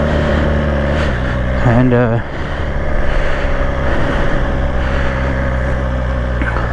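A 2020 BMW S1000XR motorcycle engine runs with a steady, loud drone throughout, a brief rising rev sweep near two seconds, and someone speaking over it.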